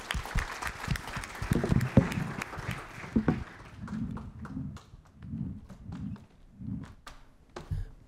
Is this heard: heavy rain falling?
no